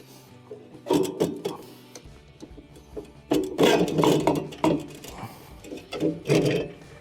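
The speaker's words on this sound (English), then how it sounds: "simply pull off on your rotor" Rotor being pulled off the motor of an LG washer that is not spinning, giving a series of clunks, scrapes and metallic knocks at close range, in irregular bursts with short pauses between them.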